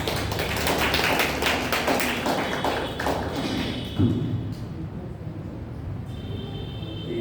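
Audience applause welcoming a speaker at a religious discourse: dense, loud clapping from a crowd that slowly thins and fades over several seconds, with no talking.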